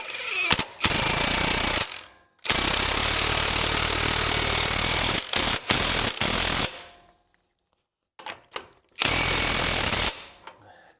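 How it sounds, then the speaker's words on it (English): Impact wrench with a 36 mm socket tightening the drive shaft nut on a Mercedes W163, loud close hammering bursts of about two to three seconds, separated by short pauses and brief stutters. "We're going to use our trusty impact and a 36 millimeter"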